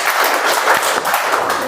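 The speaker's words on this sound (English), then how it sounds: "I'm going to move my hand up and down and you'll clap." An audience at a speech contest meeting rehearses its applause, producing a steady, dense patter of many hands clapping together at moderate loudness for under two seconds.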